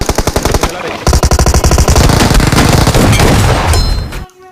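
Rapid shotgun gunfire in the video game PUBG, a loud string of hard repeated blasts that runs almost continuously before cutting off abruptly.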